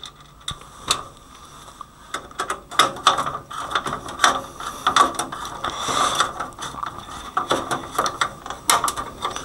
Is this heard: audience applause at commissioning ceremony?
no